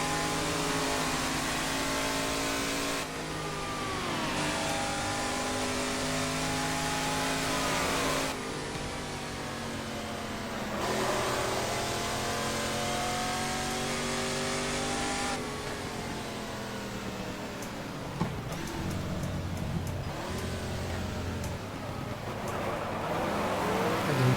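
A Ford V8 race car engine in the racing game GT Legends revs loudly and steadily, its pitch climbing and dropping through gear changes over a long continuous run, with no voices over it.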